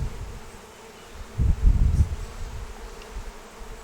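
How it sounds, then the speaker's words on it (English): Honeybees swarm around an open hive during a powdered-sugar varroa mite treatment, a low steady buzz of many wings that swells louder for a moment as bees pass close, then settles back to a dense hum. "So many flipping, flapping bees"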